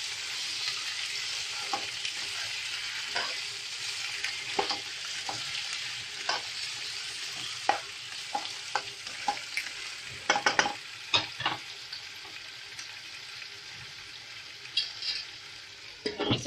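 Potatoes frying with turmeric and salt while being stirred, a steady close sizzle broken by scraping and stirring strokes that grow busier toward the end.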